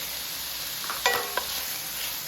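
Garlic added to a hot pan of onion, celery and bell pepper for Creole shrimp pasta gives a steady, close sizzle with a brief clatter of stirring partway through.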